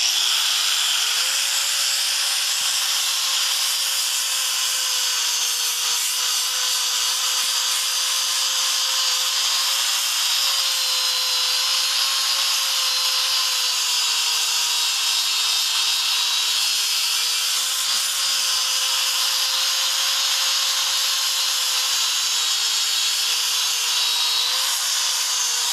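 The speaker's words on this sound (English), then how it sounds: "we'll be back to put on our polishing pad, our buffing pad as you call it, which will give you the finish you're looking for" An electric polisher with a buffing pad dry-polishes a granite countertop, giving off a steady high-pitched whine with a constant hiss that runs unbroken for the whole stretch, close up and without speech.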